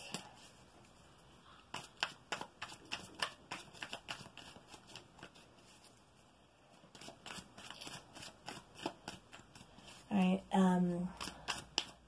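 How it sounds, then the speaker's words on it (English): Repeated crisp riffling of a deck of tarot cards being shuffled in bursts, with a pause midway and a brief voice near the end. "now we can shuffle"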